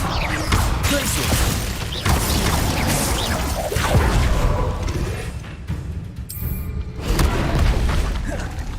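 Glacius ice spells cast again and again in the video game Hogwarts Legacy, heard as booming impacts and whooshes in a busy, loud fight with mechanical clatter throughout.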